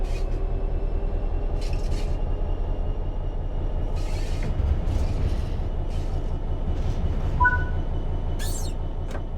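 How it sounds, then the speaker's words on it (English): A train in a train simulator pulling away under throttle, a steady low rumble of engine and rolling wheels with faint clanks and a brief squeal near the end, no talk. "Apply some throttle to get the train moving."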